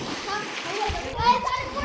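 A person dives into the water of a well, making a short splash and slosh amid a busy wash of water noise, with voices nearby.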